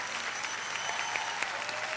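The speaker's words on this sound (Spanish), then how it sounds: "Aplausos, señor." Dense audience applause fills the whole stretch at an event, steady and sustained with scattered sharper claps and no voices standing out.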